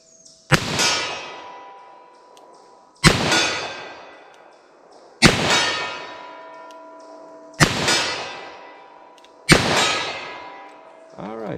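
Five loud .40 Smith & Wesson revolver shots with S&B hollow point ammunition, spaced about two seconds apart, each a sharp crack followed by a ringing metallic decay on an outdoor range.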